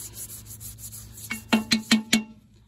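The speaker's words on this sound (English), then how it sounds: "And then kind of just rub it all over the filter." Oil being rubbed by hand into a foam air filter from a Bolens lawn mower, a few soft squishy rubbing strokes in a quick rhythm, close and alone.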